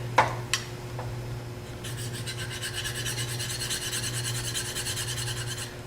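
A woodturning skew chisel stroked across a fine red 600 grit hone, a steady close scraping rasp repeated in quick even strokes after a couple of light taps at the start, over a low hum, with no talking.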